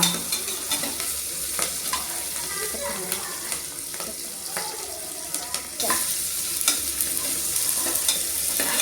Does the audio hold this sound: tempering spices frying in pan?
yes